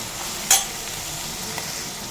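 Chopped onion and four green chillies sauté in a pan of oil while ghee rice is being prepared, giving a steady close hiss of frying broken by one sharp scrape or clink of stirring near the middle, with no talking.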